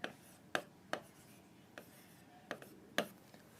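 Chalk or marker writing math on a board during a trigonometry lesson, heard as a few sharp scratchy taps and short strokes spaced irregularly, fairly faint and close, with no talk.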